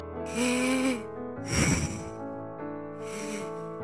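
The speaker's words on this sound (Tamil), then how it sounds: "நல்லா மூச்சு இழுத்து விடுப்பா" Exaggerated, voiced breaths at a doctor's check-up in an animated episode: three loud, drawn-out inhale and exhale bursts with short pauses between them, close and alone.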